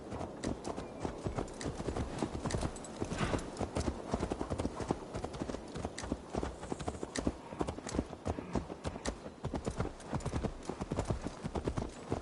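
Steady, rhythmic clip-clop of horse hooves trotting close by in the video game Assassin's Creed Valhalla, continuous and fairly loud throughout, with a faint whinny-like murmur mixed in.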